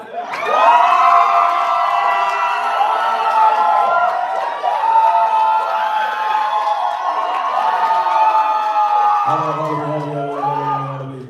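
An audience at the Creating Change Conference 2024 screams and cheers loudly and without a break, a close crowd roar of high shrieks and whoops that ends in a few final shouts.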